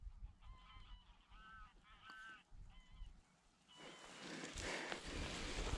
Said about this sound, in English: That's some grey-leg geese.